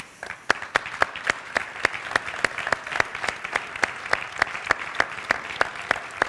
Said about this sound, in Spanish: tenemos que dar un fuerte aplauso a todos ellos